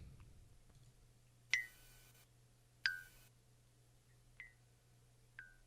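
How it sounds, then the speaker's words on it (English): A cartoon blink sound effect, a short bright plink that repeats four times, with two louder blinks followed by two softer ones over a faint low hum. "cartoon blink sound effect"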